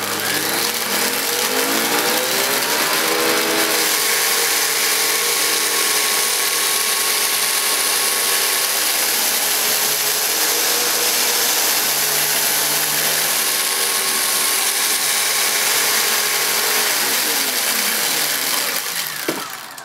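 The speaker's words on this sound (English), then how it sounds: "That noise was the rice mainly" A Panasonic MC-E47 upright vacuum cleaner runs steadily while sucking up spilled rice, its constant loud motor roar overlaid with a gritty rattling of grains pulled through the machine.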